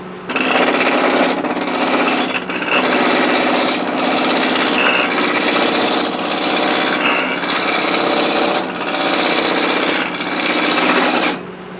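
A spindle roughing gouge rounds a wooden peppermill blank spinning on a wood lathe, giving a loud, continuous rasping cut broken by brief pauses as the tool sweeps back and forth.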